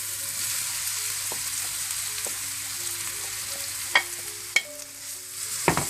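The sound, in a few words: stir-frying vegetables and rice for Chinese rice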